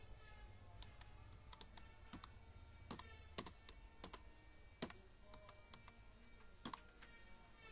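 Irregular keystrokes tap out a Salary Sheet title on a computer keyboard: close, sharp clicks in short clusters with pauses between them, over a quiet low hum in a calm room.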